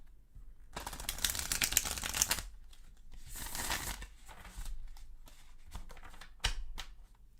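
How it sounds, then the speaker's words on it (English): Tarot cards are shuffled close up in quick papery riffles and flutters, with two long bursts followed by shorter shuffles and a sharp tap near the end, heard alone. "Okay, so let me just shuffle."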